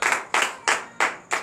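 Congregation at a morning prayer service in Benin clapping together in a steady rhythm, five sharp loud claps about a third of a second apart, close and clear with no talk.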